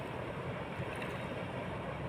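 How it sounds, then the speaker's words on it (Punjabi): Fast-flowing water of the Sutlej river near the Sri Anandpur Sahib dam: a steady, faint, unbroken rush with no voices. "ਪਾਣੀ ਆ ਹੱਲੇ ਵੀ ਪਿੱਛੇ ਬਹੁਤ ਤੇਜ਼ ਆ ਰਿਹਾ"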